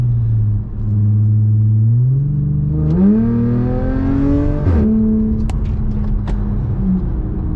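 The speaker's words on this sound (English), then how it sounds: "It's really boy racer, that exhaust." A supercharged Audi with a loud aftermarket exhaust revs up, its drone rising in pitch through several steps before easing back to a steady rumble; heard close, with no talking.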